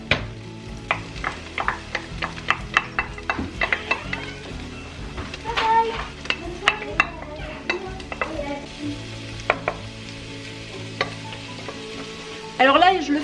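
Garlic sizzles steadily in a hot frying pan, with frequent utensil scrapes and clicks against the pan close by.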